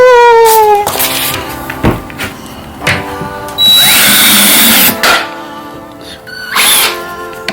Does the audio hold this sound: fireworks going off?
no